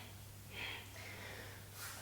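Soft breaths taken in and let out during a guided breathing exercise, heard as two brief, faint airy puffs close to the microphone over a quiet background hum.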